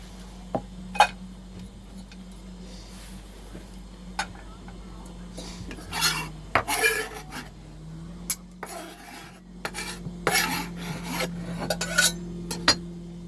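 Onion being bashed and scraped around a pan for Thai curry aboard a boat, with repeated sharp metallic scrapes and knocks in uneven bursts over a steady low hum.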